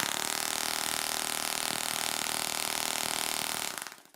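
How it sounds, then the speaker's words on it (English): Homemade drum sander running: a steady, dense, buzzing motor whir with a constant high-pitched hiss, holding level for several seconds before winding down and fading out at the end. "I have another drum sander,"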